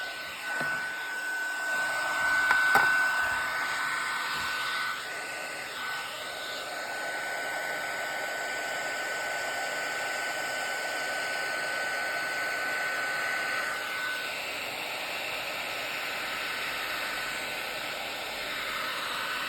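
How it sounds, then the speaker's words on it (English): A craft heat tool blows hot air in a steady, continuous roar with a faint whine, close by and alone, running without pause while vellum flowers are being made. "I gotta heat up my heat tool again"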